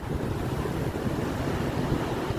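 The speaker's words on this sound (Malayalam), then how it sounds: "ഓരോ തിരമാലകളും നല്ല രസത്തിലാണ് വരുന്നത്." Sea waves rolling in and washing onto the shore, a steady broad roar of surf with wind buffeting the microphone, continuous and fairly close, no voices.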